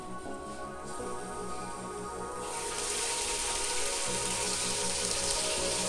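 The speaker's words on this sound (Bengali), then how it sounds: "এখন চিকেনগুলোকে দিয়ে দিচ্ছি।" Chicken pieces frying for tandoori chicken in mustard and soybean oil in a pan on a stovetop, giving a steady, dense sizzle and crackle that swells louder partway through and continues throughout, with no talking.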